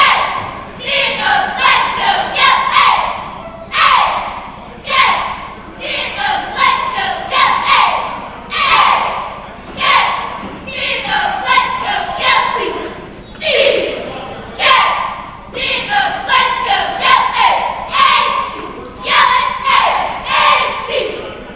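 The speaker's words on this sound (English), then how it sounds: "with the JV cheering squad on the floor" A JV cheering squad chants and shouts in rhythmic unison at a high school basketball game, loud repeated cheer phrases punctuated by thumps and claps and echoing through the gym.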